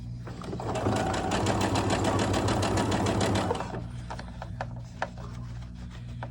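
A sewing machine stitches the elastic casing of an 18-inch doll T-shirt, running steadily and fairly close for about three seconds before stopping, followed by light fabric handling and a few soft clicks.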